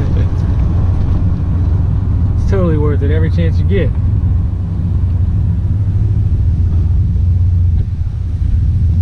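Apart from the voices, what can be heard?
Chevrolet Silverado truck engine with muffler, pulling under bridge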